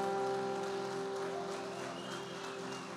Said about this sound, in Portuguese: Vamos recebê-los aplaudindo a Jesus?